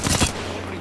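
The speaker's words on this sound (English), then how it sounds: "Opening fire." Gunfire in the battle royale game Apex Legends, a short dense burst of rapid shots lasting about a third of a second, loud and close, followed by a low steady hum.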